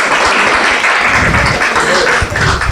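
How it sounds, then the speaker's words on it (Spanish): Church congregation clapping together in a loud, steady burst of applause that fills the room for about three seconds, with no talk over it. "Ahora dese un fuerte aplauso usted mismo dese un fuerte aplauso."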